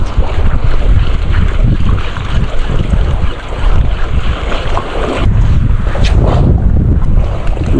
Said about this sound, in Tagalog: Uy, may hangin na, amihan na.